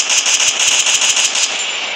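Rapid gunfire in the Free Fire video game, a fast steady stream of sharp, evenly spaced shots close and loud for about a second and a half, then trailing off, with no voices.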